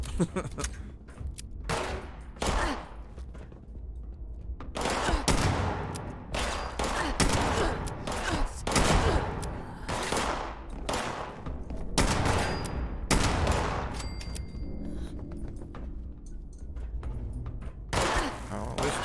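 Rapid bursts of gunfire in the video game Fallout 76, loud repeated shots and volleys across the whole stretch, with a voice talking at times underneath.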